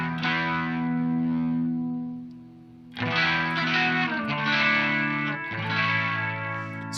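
Electric guitar through a fuzz pedal with the guitar's volume knob rolled far back, giving a cleaner, barely fuzzy tone; a sustained chord fades, then several more chords ring out, close and moderately quiet.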